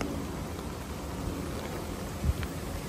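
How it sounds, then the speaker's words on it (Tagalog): Heavy rain falling at Wu Kai Sha near the stream, a steady hiss of downpour with a brief low thump partway through. "Lakas ng ulan."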